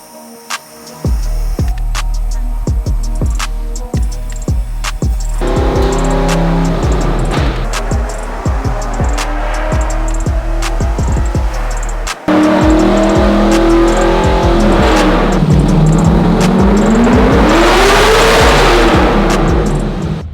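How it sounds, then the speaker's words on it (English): A loud Nissan 240SX engine on a dyno roars steadily and revs in long rising and falling pulls, with a sharp cut and restart midway, sustained and close. "She's on the dyno as we speak."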